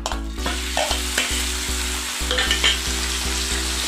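Ginger, chilli, garlic and onion sizzle and fry in hot mustard oil, a steady crackling hiss with rhythmic stirring thumps, close and loud, no voices.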